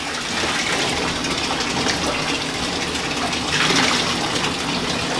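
Tap water gushes steadily while a Vizsla dog is bathed, a loud continuous rushing stream filling the space, close by with no talk over it.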